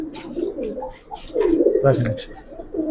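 Giribaz pigeons coo in a short burst of soft, throaty calls close by, partly overlapped by someone talking.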